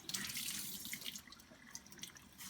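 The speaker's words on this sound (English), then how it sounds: "And the water is running clear." Tap water runs steadily into a sink while makeup brushes are rinsed under it, a soft, close, continuous splashing with small spatters and no voices.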